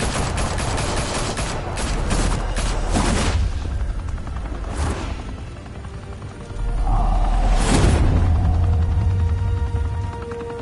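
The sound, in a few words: gunfire in video game Batman: The Telltale Series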